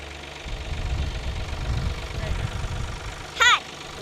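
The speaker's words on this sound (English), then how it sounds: "So Will, here we are driving your tractor" A blue tractor's engine runs while being driven, a low steady rumble with a faint knocking texture underneath, fairly quiet, broken near the end by a short high-pitched sound.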